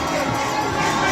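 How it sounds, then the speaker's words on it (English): A large crowd at a political rally cheers and shouts for the vice-presidential candidate, a dense, continuous roar of voices filling the space with little variation. "Can we clap for the Vice President?"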